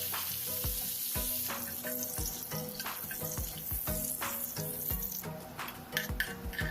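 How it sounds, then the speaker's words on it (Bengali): Onions and cashew nuts fry in ghee over low-medium heat while cooking pea pilau, giving a steady close sizzle broken by repeated clinks and scrapes of a utensil stirring in the pan, with no talking. "চুলার আঁচটি লো মিডিয়ামে রেখে পেঁয়াজ এবং কি ক্যাশিউগুলো ভেজে নিতে হবে।"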